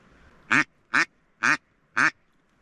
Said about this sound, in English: Mallard ducks actually have a language of sorts.